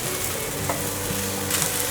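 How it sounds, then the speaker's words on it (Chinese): Monkey head mushrooms and king oyster mushrooms being stir-fried with ginger in a wok: a steady, loud sizzle with scraping stir strokes throughout, no voices. "快速翻炒"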